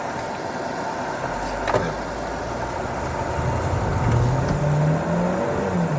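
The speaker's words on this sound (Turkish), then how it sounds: "Burada aracın asfalttaki hızlanmasını görüyoruz biraz" A Jaecoo 7 SUV in sport mode accelerates on asphalt, its engine note climbing steadily under a broad rushing road and wind noise, heard from inside the vehicle.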